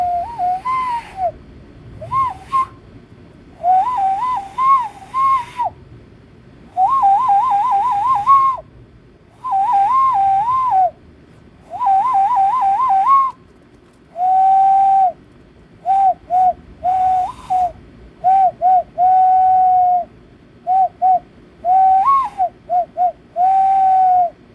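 A person imitates an owl by whistling through cupped hands, producing a series of hollow, hooting tones, some warbling and some steady, repeated in short phrases with pauses between, close and clear with no talking.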